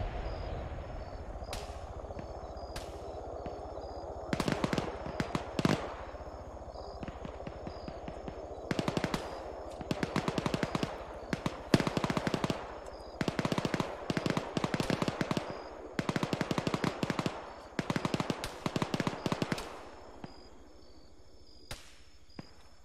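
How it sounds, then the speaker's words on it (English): Distant gunfire in a military video game set in a jungle operation: sharp bursts of automatic fire and scattered single shots popping in clusters throughout, with no talking. "I'm hearing some pop shots from the direction"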